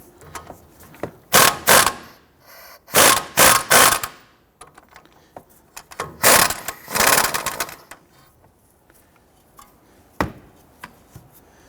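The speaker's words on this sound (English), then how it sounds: "I'm going to use a 21mm socket to go ahead and loosen this nut." A socket wrench with a 21mm socket loosens the tie rod nut on a 2005-2021 Nissan Frontier, giving close, loud bursts of ratcheting clicks in several short groups separated by quiet pauses, then a single faint click.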